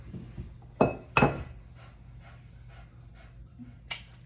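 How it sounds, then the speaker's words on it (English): Two eggs cracked one after another into a bag of Olive Garden croutons for a peanut butter and jelly meatloaf, giving two sharp close cracks a moment apart, with a lighter tap near the end against a quiet room. "going to crack 2 eggs"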